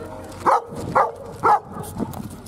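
A dog barks three times in steady succession near a railway trackside while waiting for a passenger train, loud bursts about half a second apart, followed by a softer fourth yip over low background hum.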